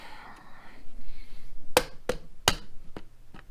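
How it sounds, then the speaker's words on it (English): A hammer strikes wood several times in an uneven series of sharp knocks, the first few louder and the later ones lighter. "A little bit of wood and my hammer."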